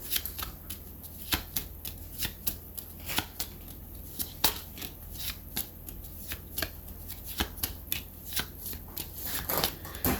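Tarot cards shuffled steadily by hand, a run of crisp riffling snaps and slaps repeating every half second or so, close and clear with no talking over them.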